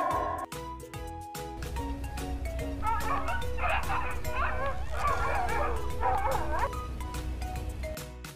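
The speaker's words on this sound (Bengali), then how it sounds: "D for dog" A dog yips and whimpers amid a children's phonics song, a few short excited barks and whines in the middle, partly buried under the music.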